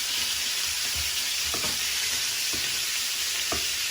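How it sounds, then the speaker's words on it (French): A one-kilogram côte de bœuf cooks gently in a pan, a steady hissing sizzle with a few soft clinks and stirs at intervals, close and without talk. "On va laisser notre côte de bœuf cuire entre temps, gentiment"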